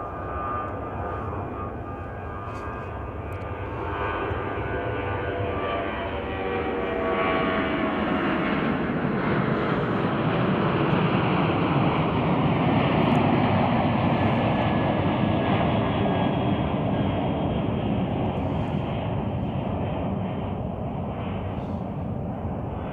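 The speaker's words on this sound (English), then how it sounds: "What do we have taken off here? Looks like that's United Airlines flight 2312." United Airlines Boeing 737-900ER taking off from Chicago O'Hare, a sustained jet roar that swells and shifts in pitch as the airliner accelerates and climbs away, heard alone without voices.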